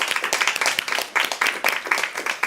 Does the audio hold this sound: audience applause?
yes